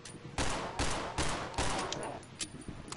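Gunfire in the co-op horror video game Cry of Fear: a rapid series of loud, sharp shots in quick succession, several bursts close together over a few seconds.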